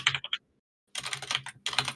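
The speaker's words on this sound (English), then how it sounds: "Hear the keyboard." Rapid clicking of keys on a computer keyboard, close and fairly loud, in quick clustered bursts with a brief silent gap in the middle.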